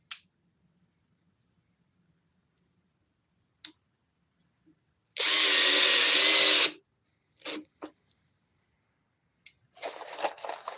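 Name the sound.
power drill drilling wood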